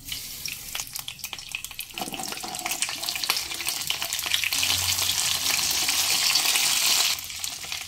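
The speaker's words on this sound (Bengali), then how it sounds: "এবার সিমগুলো সব দিয়ে দেব।" Flat beans tip into hot oil with a green chilli tempering and burst into a loud, rising sizzle with scraping stirs. The hiss swells through the middle and then settles back down near the end.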